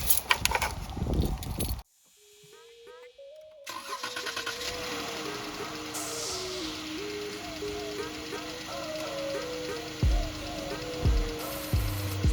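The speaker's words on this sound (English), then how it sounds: "Now go start the engine." A Jeep Grand Cherokee engine cranks with a whirring starter, catches and settles into a steady idle after a thermostat replacement, with a rising tone layered over the running engine and a few loud knocks near the end.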